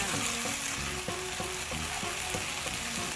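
A vegetarian stir-fry of vegetables with fermented soybean paste, mushroom sauce, a little sugar and seasoning powder sizzles steadily in a pan, with rhythmic scraping strokes of the spatula repeating close up and no talking.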